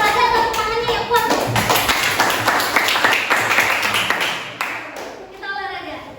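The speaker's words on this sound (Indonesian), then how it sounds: "Oke, berikan tepuk tangan untuk Lulu." Students in a classroom clap for a classmate, a burst of rhythmic, close hand claps with some taps and thumps, children's voices mixed in, tapering off near the end.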